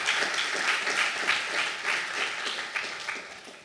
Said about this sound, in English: let's give a big round of applause for the maintainers of those applications